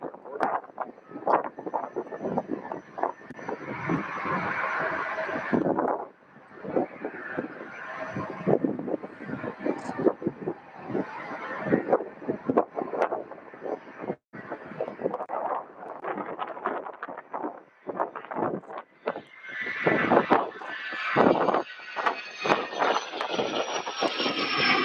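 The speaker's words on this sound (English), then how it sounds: "Falcon 10, everybody, departing off of runway" A Dassault Falcon 10 jet roars as it departs a runway at Louisville airport, a sustained distant engine rush under buffeting wind and a voice talking over it.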